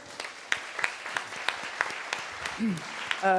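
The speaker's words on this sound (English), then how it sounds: "A big round of applause for Sam." Audience applause at a city planning conference, a steady spread of hand claps filling the room with a few sharper nearby claps, and a brief voice cutting in near the end.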